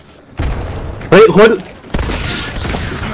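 Bursts of gunfire and booms in the video game Hunt: Showdown crack out amid excited shouting, with a rapid flurry of shots mid-way.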